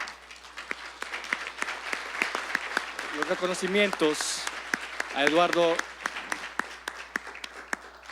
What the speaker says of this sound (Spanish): les pido que me acompañen con un aplauso para entregar